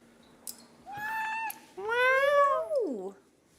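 A cat meows twice up close during a bath-time grooming session, the second call a long rising-then-falling wail, with a short sniff or rustle just before.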